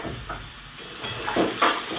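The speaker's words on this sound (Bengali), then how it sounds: "আলুটা দেখুন লাল করে ভাজা হয়ে গেছে" Potatoes frying in oil for a vegetarian elephant-foot-yam curry give a steady close sizzle, broken by a few sharp scrapes and clinks of a utensil against the pan.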